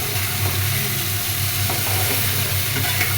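Okra frying in a pan, a loud steady sizzle with a constant hiss and low hum throughout, no voices.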